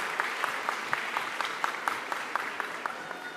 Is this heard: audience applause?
yes